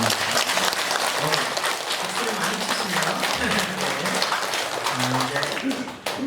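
Sustained applause fills a hall as the audience at a Buddhist dharma talk claps steadily, a dense continuous patter with some murmuring voices underneath.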